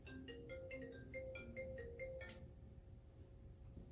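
A work phone rings with a quiet electronic ringtone, a quick repeating melodic pattern of bright tones over a steady background hum, stopping after about two seconds and leaving low noise.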